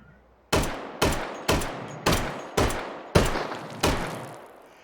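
Seven sharp, loud pistol shots in the virtual reality shooting game H3VR, fired at a steady pace about half a second apart, each with a short decaying tail, no voices.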